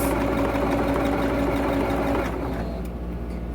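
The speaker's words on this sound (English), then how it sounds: "now we're just sewing a 1/4 inch seam on each one of these blocks" A sewing machine runs steadily while stitching a quarter-inch seam on glue-basted quilt blocks, a loud, close, even mechanical whir that continues without pause and eases slightly toward the end.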